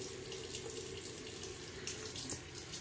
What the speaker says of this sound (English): Water's warmed up and get my hands wet